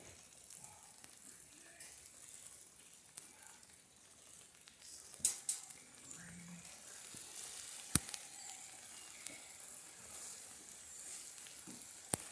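Heavy rain pours down outdoors during construction of an 1890s-class racing dory, a steady hiss with scattered louder patters and a few sharp knocks, with no voices.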